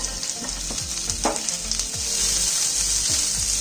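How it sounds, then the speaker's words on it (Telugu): Onion, carrot, capsicum and green chillies frying in a pan for egg rolls, a loud continuous sizzle with soft stirring scrapes and small taps, no talking. "onion, carrot, capsicum, green chillies వేసుకొని ఇలా ఈ రకంగా కొద్దిగా లైట్గా ఫ్రై చేసుకోండి"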